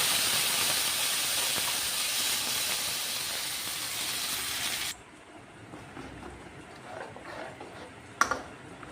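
Masala paste for street-style masala puri hits hot oil in a pan, giving a loud, steady, broadband sizzle for about five seconds that then drops sharply to a quieter hiss, with a brief clatter near the end.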